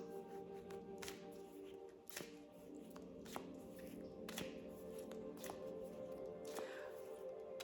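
An oracle card deck shuffled by hand, giving a steady, quiet riffling with soft repeated slaps and taps over a constant background hum.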